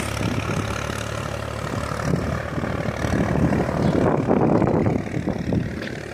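Tractor engines rumble and idle steadily nearby outdoors in a village, growing somewhat louder and rougher midway.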